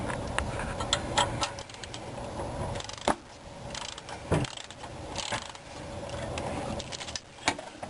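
A ratchet tightens the 9/16 bolt on a power steering pump during replacement, sounding as close, irregular clicking and mechanical ticks with a few sharper knocks over faint background hum.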